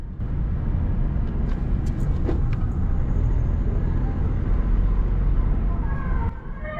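A car engine accelerating after the clutch is released, a steady close engine rumble holding for several seconds before dropping slightly near the end.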